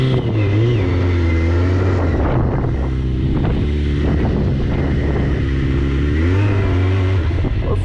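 Suzuki GSX650F motorcycle engine running after fuel pump removal, a steady close idle with a few blips of revving and some wind buffeting over the microphone.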